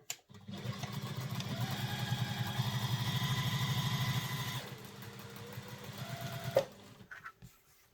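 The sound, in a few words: sewing machine stitching handbag fabric pieces together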